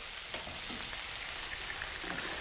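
Hot stock poured into a paella pan hisses and sizzles steadily, a close, continuous frying crackle with a few small pops and no voices.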